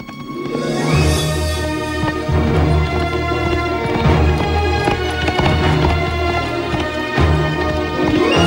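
Météore the horse gallops hard beneath a dense, loud orchestral film score, its hoofbeats buried in swelling music throughout.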